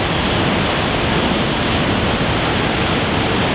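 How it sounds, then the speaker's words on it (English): Heavy water pours out of a dam's tailwater in a powerful, continuous roar. The rushing wash stays loud and steady throughout, with no voices over it. "Look at how much water's coming out of there."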